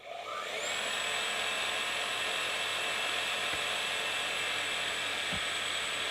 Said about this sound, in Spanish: ya invertí el motor, así que ahí lo prendo